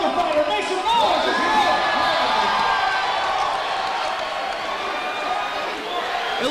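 Cheering and whooping from a fight-event crowd fills the clip, a continuous loud roar with scattered shouts that holds steady before easing slightly toward the end.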